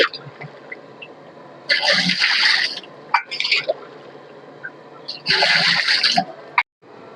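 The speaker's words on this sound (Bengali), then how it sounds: "এবার আমরা একটা ডেকের মধ্যে সাজাবো, রসগুলি" Chicken biryani stock is poured into a large caterer's cooking pot, with two loud splashing, rushing bursts of liquid separated by quieter clatter and handling noise, then a short pause.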